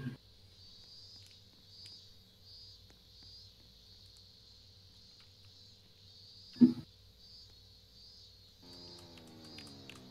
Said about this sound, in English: Cricket noises.